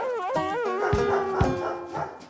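A dog howls in wavering, rising and falling tones, broken by a couple of sharp barks, loud and close with nothing else heard.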